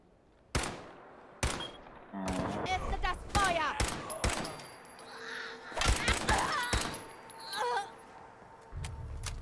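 Gunfire in Fallout 4 comes as a series of sharp cracks and bursts, some in quick volleys and some as single shots, loud and close rather than distant, with other game sounds between them.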